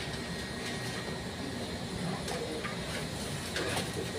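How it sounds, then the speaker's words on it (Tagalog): Electric fan running at a construction site safety meeting, a steady broadband whir with a constant hum throughout, fairly faint, with a few brief knocks and background noises but no talking. "Ito ay electric fan."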